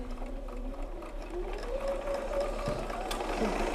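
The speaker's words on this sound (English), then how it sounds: "I'm just going to sew a 1/4 inch from this line." A sewing machine stitches a quarter-inch seam on quilt half-square-triangle pieces, giving a continuous mechanical whir with faint rising motor tones, heard close and steady without talk.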